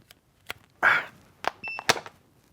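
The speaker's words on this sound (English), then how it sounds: "It beeped and I see a green light." A sit-to-stand desk gives a single short, high electronic beep as it powers on. The beep sits among quiet clicks and handling knocks from plugging in and setting up.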